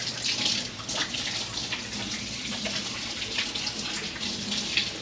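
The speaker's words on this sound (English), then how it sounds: "Let me wash my hands really quick." Tap water running steadily into a sink while hands are washed, a continuous close splashing hiss with small shifts as the hands move through the stream.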